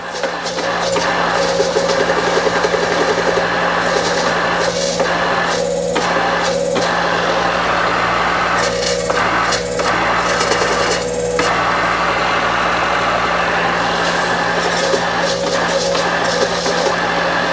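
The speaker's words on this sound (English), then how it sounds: "it's mostly the motor itself that makes any noise" Motor of a milling machine that sat abandoned outside for a year, running in a steady continuous hum with a raspy mechanical whir and faint periodic shifts in tone throughout.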